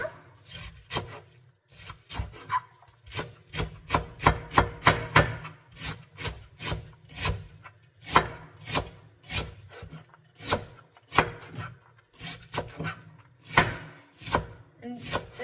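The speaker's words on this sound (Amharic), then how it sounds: "የሚበቃኝን ያህል እንከትፋለሁ፣ በደቃቁ ማለት ነው።" Knife chopping cabbage finely on a wooden board, a steady run of crisp, close, evenly spaced thuds repeating for the whole stretch with no voices.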